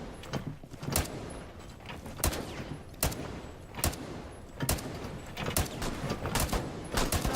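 Tachanka's mounted machine gun in Rainbow Six Siege fires in heavy, regularly spaced bursts, sharp loud reports repeating roughly every second over a continuous clattering background.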